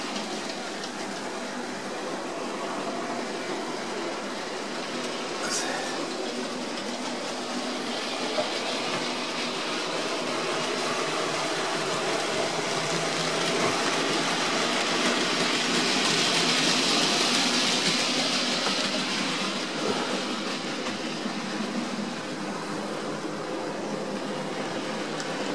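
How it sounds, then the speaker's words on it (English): A branch line train rolls into a station, its broad wheel and engine rumble building steadily and peaking near the end, with a brief high squeal of rails partway through; no voices. "Branch line train just going again under the back, pulling to the station."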